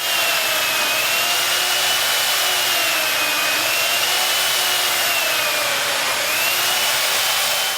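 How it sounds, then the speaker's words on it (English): A loud, continuous chainsaw whine carving a 90 kg ice block, its pitch rising and dipping slightly as the blade works, close and unbroken. "So with the chainsaw, I carve all around it"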